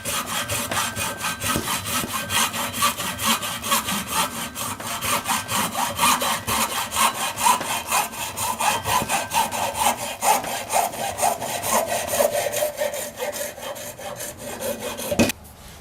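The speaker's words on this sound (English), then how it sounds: "I'm just going to use a hacksaw" A hacksaw saws steadily through an old steel chisel just above its shank, a close, continuous rasping of back-and-forth strokes lasting throughout and stopping abruptly at the end.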